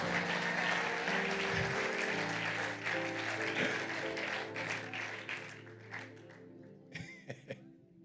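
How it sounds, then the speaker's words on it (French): A church congregation claps loudly and steadily for several seconds over a tonal musical backing, then the applause thins into a few scattered claps near the end. "Acclame très fort pour la RDC."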